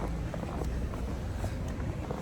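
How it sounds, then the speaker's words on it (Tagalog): Strong wind near a lake beach in a Canadian snowstorm buffets the microphone with a steady low roar, broad and unbroken throughout. "Lakas ng hangin dito sa malapit sa beach."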